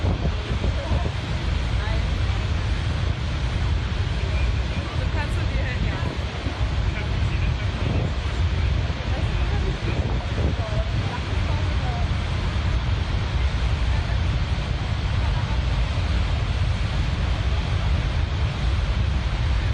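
A waterfall gives a constant broadband roar of rushing, crashing water that stays steady and loud from start to finish, with no pauses.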